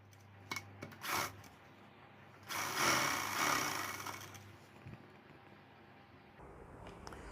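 Sewing machine stitching along a folded-in blouse strip, a few short whirring bursts followed by a longer sustained run of stitching, with a soft rasping handling noise around it.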